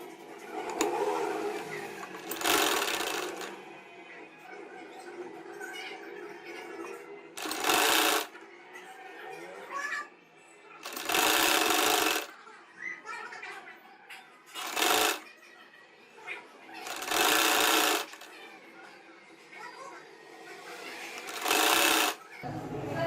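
Domestic sewing machine stitching red piping onto a red baby frock, running in repeated short bursts of rapid whirring with pauses between, close and clear, while someone talks during the gaps.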